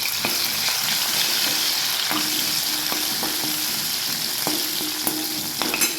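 Red garlic, curry leaves and crushed green chillies frying in oil: a dense, constant sizzle with small pops and several soft knocks from stirring spread across the clip, fairly close and without talk.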